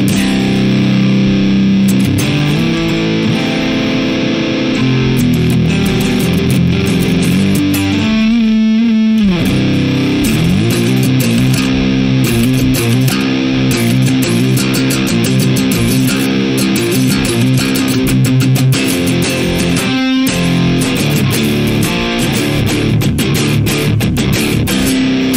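An electric guitar plays through a Black Sails distortion pedal set to its asymmetrical clipping stage, distortion and tone at three o'clock, giving loud, saturated sustained chords and riffs with a few brief muted gaps, no talking.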